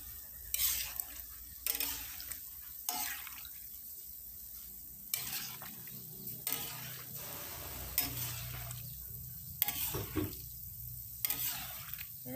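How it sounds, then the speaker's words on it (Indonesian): Cimol balls frying in a pan while being stirred, with a steady sizzle broken by repeated scraping stirs at irregular intervals, close and moderately loud. "jadi kita aduk-aduk terus sampai si cimol ini kering ya."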